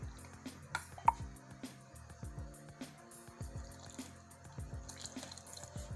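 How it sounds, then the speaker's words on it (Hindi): Water is poured slowly into a bowl of gram flour (besan) batter for mirchi vada. Faint, irregular trickles and drips sound close by in a quiet kitchen. "धीरे धीरे पानी डालेंगे ताकि गुठलियां ना बने।"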